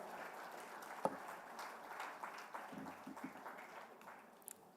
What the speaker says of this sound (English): A loud round of applause, ladies and gentlemen.